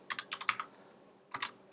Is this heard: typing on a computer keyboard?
yes